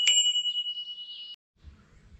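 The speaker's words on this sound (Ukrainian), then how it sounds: "Дзвоник механічний." A mechanical bell on a Bulls King Cobra bicycle gives one sharp, bright ding that rings on loudly and evenly for over a second before cutting off, followed by faint low rustling.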